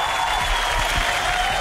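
Dense, even applause from an audience fills a short stretch, loud and continuous with no individual claps standing out.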